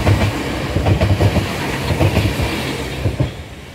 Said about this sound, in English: oh yeah, this train coming now.